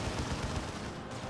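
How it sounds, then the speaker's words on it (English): A big zap gun shot in Dawn of War 2, a loud sustained crackling burst with low rumble filling the whole short moment, set among ongoing battle noise. "There's a big zap gun shot."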